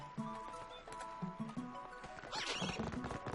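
A horse in the video game The Legend of Zelda: Twilight Princess clip-clops with quick hoof beats and snorts over faint game music and ambience, fairly quiet throughout.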